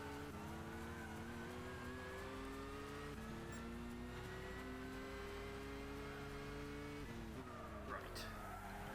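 Race car lapping the Nürburgring in Gran Turismo 6 on PS3, a steady high-revving engine whine with stepped pitch changes at gear shifts and a brief tire squeal near the end, played fairly quietly.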